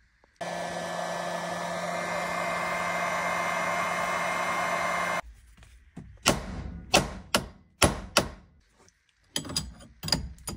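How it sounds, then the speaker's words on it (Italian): A hair dryer blows steadily for about five seconds, heating the steering wheel of an Alfa Romeo GT Junior 105 Bertone with a puller fitted, then stops and is followed by a series of sharp, irregular knocks and taps nearby. "Adesso lo scaldiamo col phon e poi gli diamo due colpi sperando che venga fuori"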